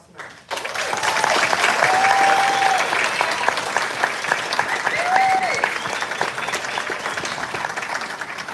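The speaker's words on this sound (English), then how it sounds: "giving the whole class of 2023 a round of applause tonight" A graduation audience breaks into loud, sustained applause for the class of 2023. Dense clapping fills the hall for several seconds, with a couple of brief whistle-like tones rising above it before the clapping slowly begins to thin.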